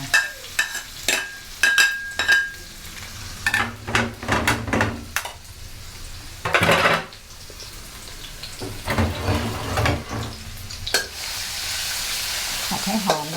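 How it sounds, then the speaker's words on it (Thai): Garlic and red chilies frying in reused old oil in a wok, crisp sizzling crackle broken by repeated sharp scrapes and clatters of a spatula stirring, with a louder sizzle burst midway. "น้ำมันเก่าก็ตักเทใส่ลงตรงนี้เนี่ย กระเทียมกับชิ้นแดงจินดา"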